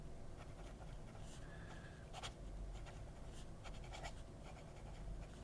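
A fountain pen nib with a black finish scratches across paper in short, faint strokes and quick scribbles, close and quiet, with no talking.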